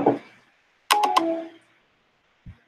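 Telephone keypad tones from a key being pressed during a call menu: a faint short blip, then a loud two-pulse touch-tone burst with a ringing tail and a brief low thump after, no speech.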